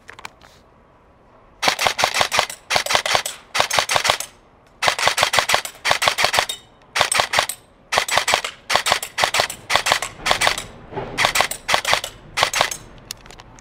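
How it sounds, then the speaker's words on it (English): Helios Umbrella Corporation M4 airsoft AEG firing in rapid bursts, a dozen or so sharp clattering volleys with brief pauses between, close and loud with no talk. "Let's go ahead and put a mag in, see how it shoots."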